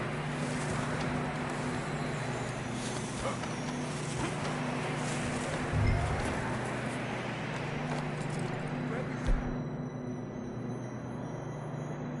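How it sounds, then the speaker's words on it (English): Horses ridden in the video game Red Dead Redemption 2 clip-clop over rough ground, a steady hoofbeat under a constant wind and engine-like hum, holding fairly even before thinning out near the end. "I don't think we can go much further on the horses."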